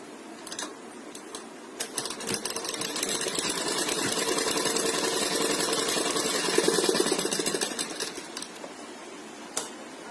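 Sewing machine stitching a sleeve seam, a rapid continuous mechanical chatter of the needle running steadily for most of the stretch, with brief stops near the start and end, close and fairly quiet, no talking.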